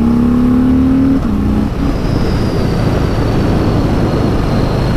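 Car engine climbing a mountain road at about 7,000 feet near Lake Arrowhead, California, a steady loud drone with a falling tone as it shifts gear, continuous cabin and road rumble throughout.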